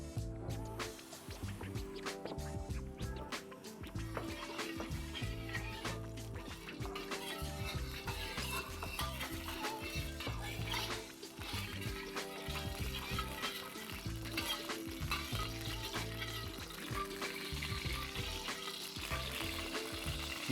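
Cooking oil sizzling and frying in a pan for stir-frying, a continuous close crackle with occasional stirring clatter and rhythmic scraping throughout.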